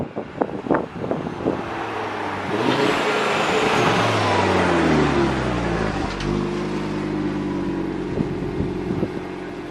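A three-door Audi RS3 on its first drive after being built from scratch, with a few short engine blips followed by a loud, sustained drive-by whose engine note rises and then falls away before settling into a steady rumble.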